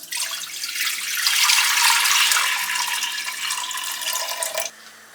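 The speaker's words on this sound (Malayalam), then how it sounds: "അപ്പം അതിന് വേണ്ടിയിട്ട് 5 കപ്പ് വെള്ളം ഒഴിക്കുകയാണ്." Five cups of water are poured into a pan while making jaggery vermicelli payasam, a loud, steady splashing pour lasting about four seconds before it stops abruptly.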